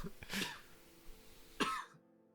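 Two short, faint coughs spaced about a second apart in a quiet room, no talking.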